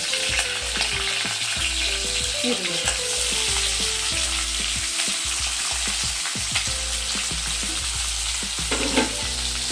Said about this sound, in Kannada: ಇದು ಚೆನ್ನಾಗಿ ಫ್ರೈ ಆಗಿ